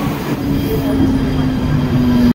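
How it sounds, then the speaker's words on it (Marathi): A train pulls into a station near Mulund and Thane, a steady loud rumble with a sustained low hum running throughout until it cuts off abruptly. "काय ट्रेन आलेली आहे"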